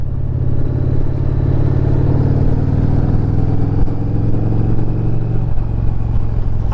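A 2021 Indian Challenger Limited motorcycle engine pulls steadily under acceleration during a ride, a loud, continuous low-pitched drone with a slight rise in pitch and no voices over it.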